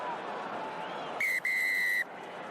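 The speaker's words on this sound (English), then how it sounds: "Referee's whistle is gone." A referee's whistle blows at a rugby match between Ireland and New Zealand in 2021, two sharp bursts with a short gap, the second held longer, cutting through steady crowd noise.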